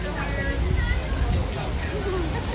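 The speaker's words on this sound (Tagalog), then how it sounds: "Ayan, lumakas ang ulan." Heavy rain pours steadily outdoors at a summer fest, a dense continuous hiss of falling water without pause.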